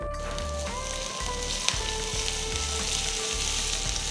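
Cumin seeds, chopped ginger and green chilies frying in hot oil, a steady close sizzle with bright crackles running the whole time, no voices.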